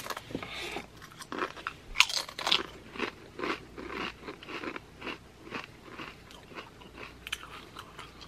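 Pringles Wavy MOA Burger flavor crisps being crunched and chewed up close, a steady series of crisp bites and crackly chewing with no talking.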